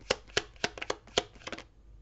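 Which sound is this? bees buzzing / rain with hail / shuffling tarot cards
shuffling tarot cards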